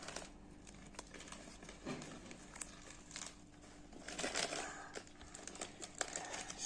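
A blind-box capsule, drawn from a jar with a spoon, is opened with quiet crinkling and crackling of plastic and wrapping, in a run of small scattered rustles and snaps close by, with no talking.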